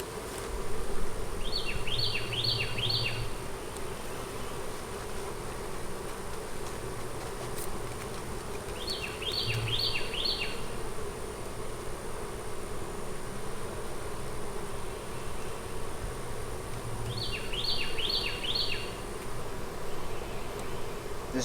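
Honeybees hum in a dense, steady drone around a hive showing swarm signs, close and continuous, with a few faint chirps repeating in the background.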